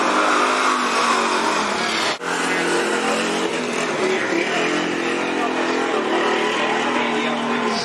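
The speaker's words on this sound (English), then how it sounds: "Here's the 74 car." Race car number 74 at Cottage Grove Speedway, a dirt oval, with engines roaring steadily and loudly as cars circle the track, a continuous dense drone under an announcer's voice.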